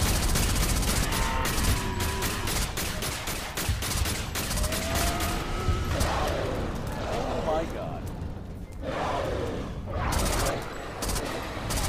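Dense gunfire from the video game Alien Breed: Impact, rapid continuous bursts with loud booms, heard together with talking voices.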